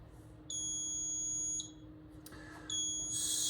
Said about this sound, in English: there's the beep that tells us it's done with calibration